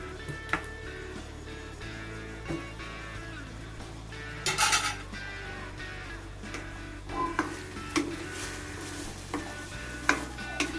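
Chicken being stirred in a pan over high heat for sweet soy-glazed chicken with dark soy sauce: quiet, steady sizzle with scattered scrapes and clinks of a utensil against the pan, one louder clatter midway.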